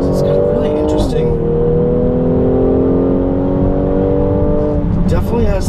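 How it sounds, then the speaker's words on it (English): A 2017 Mercedes-AMG GLC43 on a rainy performance drive, its engine climbing steadily in pitch through a long pull between upshifts, loud and close from inside the cabin, with brief bursts of noise at the shift points. "definitely has that sort of that big AMG kick on upshifts"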